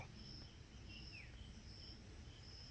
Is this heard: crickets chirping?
yes